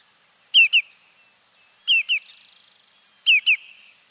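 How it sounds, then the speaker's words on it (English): Three pairs of short, clear whistled notes from a lesser yellowlegs, each a quick double call, evenly spaced with quiet gaps between. "So this is the call of the lesser yellow legs."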